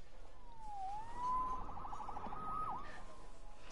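A police siren wails faintly at a distance, its tone sliding and warbling through several rising and falling cycles over a few seconds.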